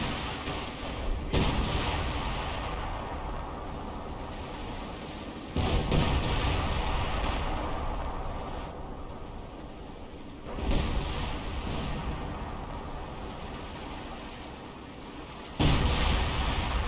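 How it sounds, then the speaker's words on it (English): A concentrated artillery barrage in Company of Heroes 2 lands as four heavy booming impacts spaced several seconds apart, each followed by a long rumbling decay over a dense ongoing battle din. "He probably miscast that concentration barrage because that seemed like a bad spot for it"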